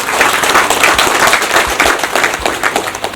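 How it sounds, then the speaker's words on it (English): An audience at a nursing textbook launch breaks into applause: a loud, dense wash of clapping from many hands, sustained throughout with slight swells. "I think it deserves another round of applause"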